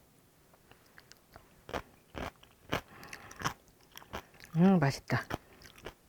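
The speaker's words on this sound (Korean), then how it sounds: "오이지를 제가 한번 먹어보도록 할게요." Crisp, crunchy bites and chewing of a homemade traditional Korean pickled cucumber (oiji), several loud close crunches in an uneven rhythm, with a short spoken comment among them.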